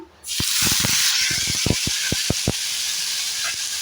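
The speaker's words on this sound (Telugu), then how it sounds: "అదే ప్యాన్ పెట్టుకొని అందులో ఆయిల్ ఉంది కదా ఇప్పుడు టమోటాలు వేసేసుకున్నాము" Tomatoes drop into hot oil in a pan and set off a sudden loud sizzle that holds steady, with a quick run of sharp crackling pops early on.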